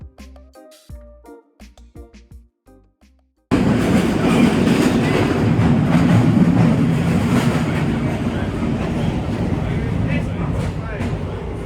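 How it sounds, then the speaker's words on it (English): A London Underground Victoria Line train rumbles and clatters loudly along the track after a few seconds of quieter sparse sounds. The dense rolling noise continues steadily throughout. "This is a Victoria Line train to Brixton."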